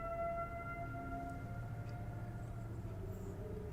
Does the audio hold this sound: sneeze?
no